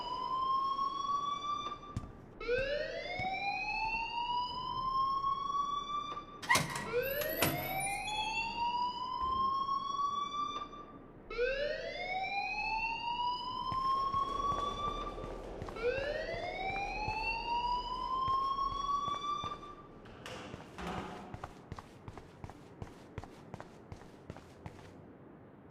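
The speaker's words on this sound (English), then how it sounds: "please turn off that alarm since that's your job" Fire alarm in the video game Life is Strange, a repeating rising electronic whoop sounding about five times in a regular cycle, with scattered clicks and thuds between wails and no talk.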